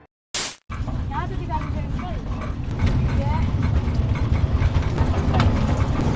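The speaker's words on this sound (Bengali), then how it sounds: "টয় ট্রেন চড়ার উদ্দেশ্যে রওনা দিলাম।" A toy train at the Howrah Rail Museum in Kolkata running along narrow track, a steady mechanical rumble and rattling clatter that grows slightly louder, after a brief sharp burst at the start.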